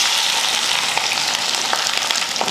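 Onions and green chillies hitting hot oil with spluttering mustard seeds, a dense steady sizzle with small crackles and pops throughout, close and fairly loud, no talking.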